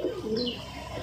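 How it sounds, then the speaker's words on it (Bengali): Pigeons coo close by as they come in to land, soft low calls with a brief higher chirp, alone without talk. "তো বন্ধুরা এবার মনে হচ্ছে ধাড়ি পায়রাগুলো নামবে, পুরো একদম কাছে চলে এসছে"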